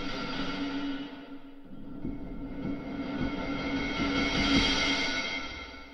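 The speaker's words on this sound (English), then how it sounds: "Let's hear what the distorted sound comes off as." A distorted, droning cinematic texture from a Spitfire Audio cinematic percussion library, with a handful of heavy percussion hits landing irregularly, swelling louder toward the end.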